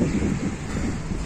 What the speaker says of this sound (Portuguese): Ai, vento.